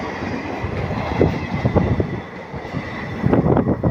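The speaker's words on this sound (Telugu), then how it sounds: "ఇప్పుడే ఒక సిఆర్పిఎఫ్ వాళ్ళ స్పెషల్ ట్రైన్ అయితే పోతుంది" A CRPF special train rolls through a railway station, a continuous rumbling clatter of wheels and carriages close by, with some wind buffeting the microphone.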